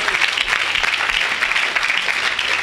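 A church congregation claps together in steady, dense applause that fills the space from start to finish, with no pauses.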